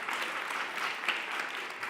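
An audience at the 2018 Mobility Awards ceremony bursts into dense, steady applause, a continuous wash of many hands clapping at even loudness for two seconds with no talk over it.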